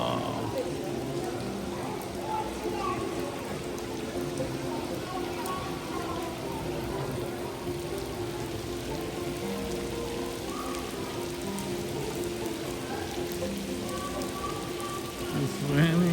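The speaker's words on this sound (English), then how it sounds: "It's raining." Steady rain patters over a wide area at the Roman Baths in Bath, England, a continuous hiss with faint background voices and movement mixed in.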